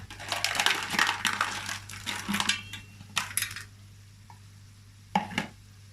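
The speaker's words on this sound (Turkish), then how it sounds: "Kavrulan pirincimin üzerine şöyle bir su bardağı dolu dolu haşlanmış nohut ilave ediyorum." Boiled chickpeas tipped onto toasted rice in a cooking pot give a dense rattling, crunching clatter over the first few seconds, then a couple of shorter scattered clinks and scrapes, close up and with no talk.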